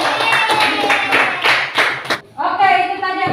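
Classroom clapping from a group of pupils during an English lesson on telling the time, a brief burst of overlapping claps with voices mixed in, cut off by a short pause before talk resumes.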